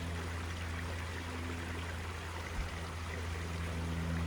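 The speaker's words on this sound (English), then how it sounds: "That water sounds relaxing." Trickling water from a small stream runs in a steady, gentle rush in a quiet nature area, with a low background hum and one faint thump, no talking.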